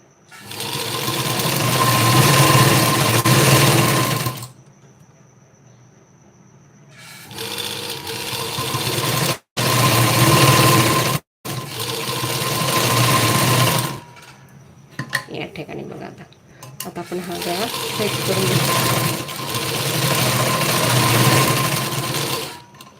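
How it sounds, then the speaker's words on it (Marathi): A sewing machine stitches a blouse in loud running bursts, with several pauses of near silence between runs of steady mechanical whirring. "मग बरोबर या सेंटरवरून शिलाई देऊन घ्यायची"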